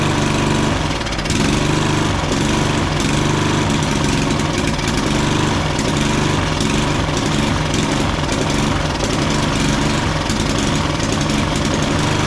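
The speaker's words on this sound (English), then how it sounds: "we usually use a clamp in order to keep the lawnmower running." A lawnmower engine with a blade brake clutch runs steadily at idle, loud and close, with a constant low droning hum and no pauses or voices.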